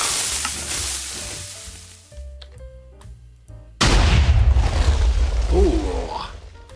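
A TNT cannon in Minecraft Java fires after fizzing fuses and ticking block sounds, then erupts into a loud, sudden explosive blast with rumbling debris, close and heavy.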